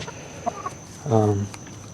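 Brown sex link chickens, brown hens with white spots kept for brown eggs, give a few soft clucks and then one louder, drawn-out call close by, in a quiet yard.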